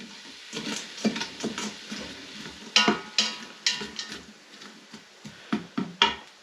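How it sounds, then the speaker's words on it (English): Onions and garlic sauté in a pan, a steady close sizzle broken by repeated scraping stir strokes and light utensil clicks, loud and without talk. "our onions and garlics is pretty much sauteed up"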